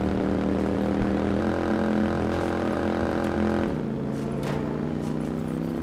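Steady, droning motorcycle engine in Watch Dogs, a continuous loud hum of layered tones while riding, with a slight pitch drop partway through.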